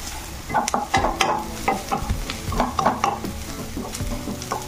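Onions sizzle steadily in a hot pan while a utensil stirs and scrapes, with occasional clinks of metal against the pan, close and fairly loud.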